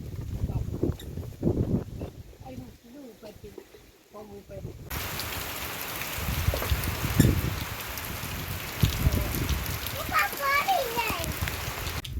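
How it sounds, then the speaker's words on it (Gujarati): Rain begins partway through, a steady dense patter close by, after people talking; voices continue faintly over the downpour. "વરસાદ આવ્યો"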